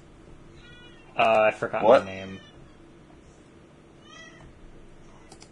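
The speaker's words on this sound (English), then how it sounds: "That's definitely a cat, though." A cat meows loudly twice in a row nearby, with a drawn-out, wavering cry. A fainter meow follows, and people talk briefly.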